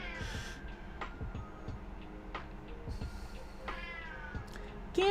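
Several house cats meow repeatedly, a string of close, drawn-out mewing cries spread across the stretch, some overlapping, with small ticking noises between them.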